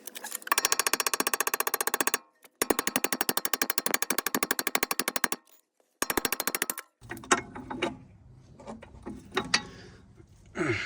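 Rapid metallic hammering on a bolt end to knock another bolt out of a Passat B5/5.5 suspension part during coilover installation, loud close bursts of fast repeated strikes with short pauses, then scattered clanks and handling noise.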